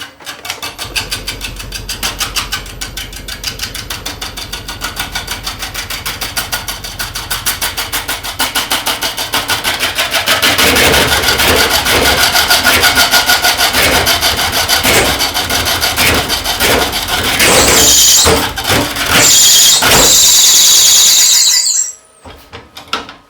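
A wood lathe turns a cedar burl bowl as the gouge cuts, a loud continuous rubbing, scraping drone with rhythmic rasping, rising harsher mid-way, shrill squeals near the end, then stopping abruptly.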